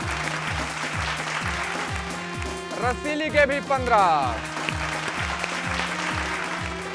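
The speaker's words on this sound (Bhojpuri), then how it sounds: "जोरदार तालियां सभी टीमन के लिए।" An audience applauds the teams at a televised game-show contest, a short burst of clapping under an announcer's voice and a steady, thumping musical beat.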